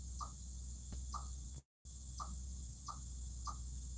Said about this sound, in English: I've never heard that bird. It's almost like a suckle.